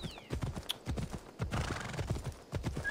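Steady clip-clop of horse hooves trotting close by in the video game Assassin's Creed Odyssey, a quick regular rhythm of thuds, with a brief whinny near the start.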